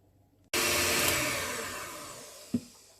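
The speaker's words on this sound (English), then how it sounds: "we're going to whisk it on high for about 20 to 25 minutes until it's thick and shiny" An electric stand mixer whisks lemon sherbet marshmallow mixture on high, switching on abruptly into a loud, steady whirring roar, close up, with a couple of sharp knocks near the end.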